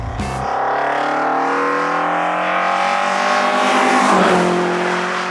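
An Alfa Romeo Series 105 twin-spark engine revs loud and close, its note rising and holding in a smooth, musical climb after a sharp start, with a brief dip before it climbs again.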